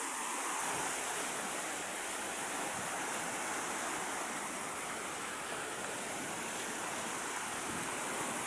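Water flowing in beside a small hut, a constant broad rushing wash with no breaks, steady and moderately loud, with some wind noise mixed in.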